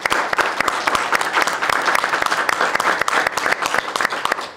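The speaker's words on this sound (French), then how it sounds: "je pense qu'on peut les applaudir" Audience applause after a talk at a health event on fighting sedentary lifestyles, dense steady clapping from many hands with sharp individual claps standing out, loud and sustained throughout without speech.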